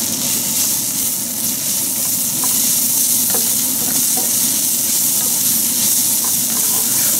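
Pickled garlic frying in a pan, a loud continuous sizzle and hiss close by with faint scattered stirring clicks, steady throughout with no talk.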